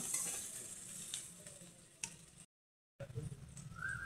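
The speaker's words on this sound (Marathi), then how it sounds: "आणि त्यामध्येच घालते मिरची। चांगला परतून घेते तेलामध्ये।" Green chilies frying in hot oil for a cabbage and chana dal dish, a soft steady sizzle with light stirring taps, close and quiet, cut by a brief silent gap.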